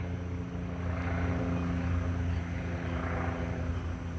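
Continuous rotor and engine drone of a sheriff's department helicopter circling overhead at night, steady and moderately distant, with no one speaking.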